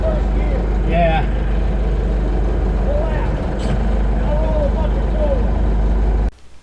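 A truck engine drones low and steady while hauling a 10-foot DIY deer tower down a slope in first gear in the Kentucky woods, a close continuous rumble that cuts off near the end, with people talking over it.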